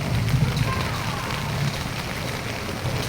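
Heavy rain pours steadily during a storm, a dense continuous hiss close by with faint low rumbles underneath and no voices.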